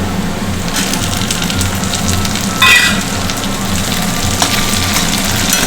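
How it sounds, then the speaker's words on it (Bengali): Onions fry in a pan with a loud, steady sizzle and crackle, and tomatoes are added partway through, giving a brief, sharper burst of frying noise. "পেঁয়াজটা ভেজে কত সুন্দর করে লাল লাল করে ভেজে দিয়েছি এরপরে টমেটোটা দিয়ে দেবো"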